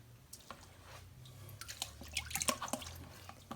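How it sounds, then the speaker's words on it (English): Residue being rinsed off white tennis shoes dyed with a Jacquard kit: running water spatters and drips in uneven bursts that build up toward the middle, fairly close, with no talking. "Now I think we need to rinse this off because there's a little residue."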